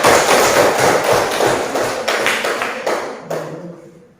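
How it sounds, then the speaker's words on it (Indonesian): A classroom of pupils claps together for a classmate, a dense burst of hand claps close by that holds steady for several seconds, then thins and fades out toward the end. "Tepuk tangan dulu untuk siapa?"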